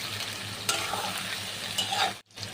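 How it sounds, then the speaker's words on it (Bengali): Soybeans and egg fry with turmeric, salt, cumin and chili powder in a pan, a steady close sizzle with scraping stirs, a brief cut near the end, then frying resumes. "তো সব মশলাগুলো দিয়ে কিন্তু ভালো করে কষিয়ে নিতে হবে।"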